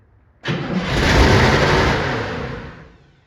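A 1959 Chevy Impala convertible with a 348 V8 fires up abruptly and runs with a loud, rough, full-bodied roar that swells, then eases back off.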